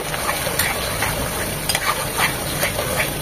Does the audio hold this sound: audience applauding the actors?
no